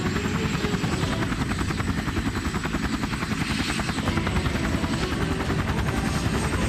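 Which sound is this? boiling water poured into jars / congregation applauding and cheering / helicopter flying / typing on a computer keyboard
helicopter flying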